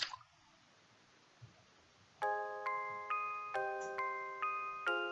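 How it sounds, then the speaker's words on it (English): Watering a plant with a glass of water in a ghost-themed puzzle video game: after a faint soft splash, a run of six bright chime-like tones follows in steady succession, each ringing and decaying, with no talking. "Okay, I'm gonna water the plant."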